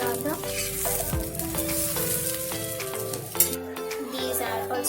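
Paneer sandwiches sizzle and toast in a pan, a continuous frying hiss with scattered scrapes and a sharp knock near the end, close and fairly loud, no talking.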